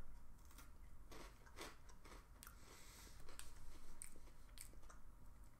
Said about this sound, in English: It's got like a crunch and a consistency that's between a cracker and a chip, really.